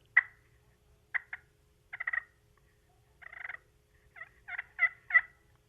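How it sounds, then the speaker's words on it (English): Wild turkey passive calling of clucks, purrs and yelps: about nine short, clear calls in loose clusters, some single and some doubled, with quiet gaps between and no voices. "just give out some passive calling, just a few clucks and purrs and maybe a yelp every now and then"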